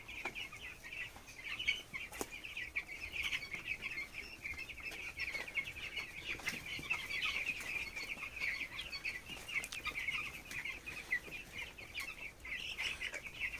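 Broiler chickens in a hot brooding room make a steady, dense chorus of soft chirps and peeps, many birds at once at moderate distance, continuous throughout with no talking.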